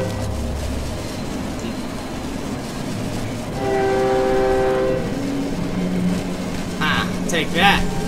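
A train rumbles past loudly in the video game Cry of Fear, its horn sounding a sustained tone midway, with wheels clattering and brief talk near the end.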